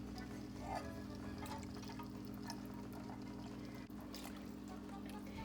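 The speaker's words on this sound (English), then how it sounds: "Now I'm going to add my milk mixture and my ham bouillon into the roux." A milk mixture and ham bouillon pour steadily into a roux for Cuban-style ham croquettes, giving a soft continuous trickle and faint sizzle over a low, constant background hum.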